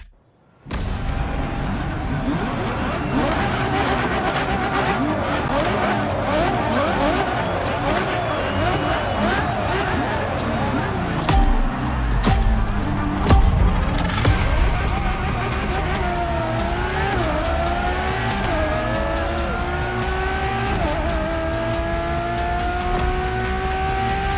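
Ferrari Enzo supercar racing in a video game, a steady loud engine drone with rising and falling revs and gear changes running throughout, briefly louder bursts midway, alone without talk.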